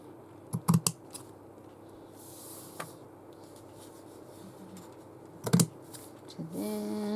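Scissors cut fabric for a stitchery project: a few short, close snips in two clusters, with soft handling rustle between them in a quiet room.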